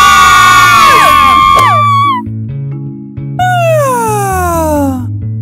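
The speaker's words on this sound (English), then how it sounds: "Why are you yelling?" People yell and shout at a school: loud, high-pitched cries that slide downward in two long outbursts over steady background music.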